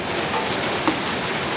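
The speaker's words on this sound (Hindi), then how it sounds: "बहुत तेज़ी से होने लग गए हैं ओले की बारिश से" Heavy rain pours during a hailstorm, a dense, steady roar of water hitting surfaces with one soft thump near the end and no voices.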